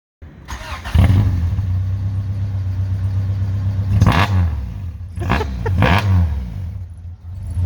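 Honda Civic EF hatchback engine running with no exhaust fitted, loud and raw, idling with a low rumble and blipped several times into sharp revs, close up.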